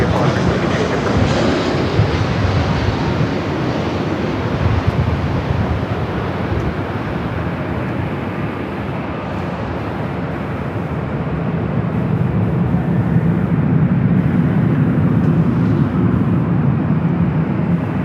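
An Alaska Airlines jet takes off at Los Angeles International Airport: a broad, steady roar with wind noise, holding throughout and swelling louder toward the end, with no talk.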